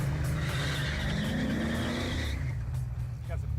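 A 1979 Chevy Malibu with an LS engine swap and American Powertrain manual transmission pulls away under throttle, its engine note climbing as revs rise, then dropping at a shift, heard from inside the car.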